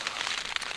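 Steady rain at a wild camp on the North York Moors, a soft continuous hiss of drops with small irregular patters, moderately quiet and with no one talking.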